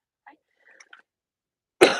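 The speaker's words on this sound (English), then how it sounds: "I hate when I cough with my mic on." After near silence with a few faint small sounds, a single sharp, close cough bursts out at the very end.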